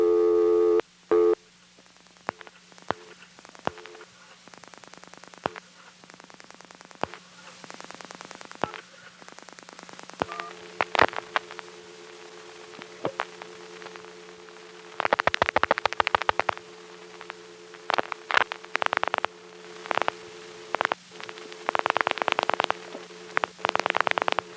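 A 1974 NX1 crossbar switching office handles a toll call pulsed into a step-by-step tandem in Greenville, North Carolina, with faint hum, sharp dial clicks and bursts of line tones and static in irregular succession.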